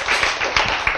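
Hands clap in a quick, fairly even rhythm, several sharp claps close by in a brief burst.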